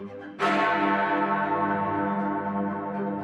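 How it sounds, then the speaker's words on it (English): A single deep clock tower bell strikes once on the hour, loud and resonant, its rich tone ringing on and slowly fading. "this time we're only ringing one bell"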